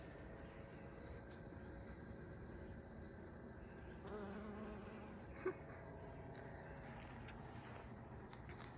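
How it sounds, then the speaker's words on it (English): Soft, steady buzzing of bees in a garden hums outdoors at low volume, a continuous drone with faint background noise and no talking. "Fun to watch the little bees."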